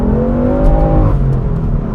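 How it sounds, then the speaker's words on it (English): A car engine runs loudly and steadily, its pitch swelling then easing slightly as it holds a low, throaty rumble with no talking. "I definitely hear the engine more than I hear the exhaust"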